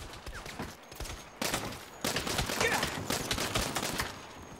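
Sustained gunfire in the Saints Row video game during a final mission shootout, rapid overlapping shots in dense bursts that grow louder and more continuous after the first second.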